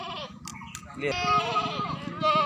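Totapuri goats offered for sale on a farm bleat loudly and close by in quavering cries, with voices talking over and between the calls.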